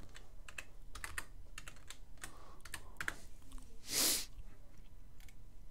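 Quiet typing on a computer keyboard, scattered clicks and short bursts of keystrokes, close but soft, with a brief louder hiss-like noise near the end and no speech.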